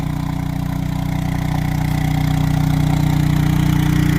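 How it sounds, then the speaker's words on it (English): A four-wheeler ATV engine strains to pull a homemade yard sled, holding a loud, steady, close droning growl that builds slightly throughout. "4-wheeler ain't wanting to pull it"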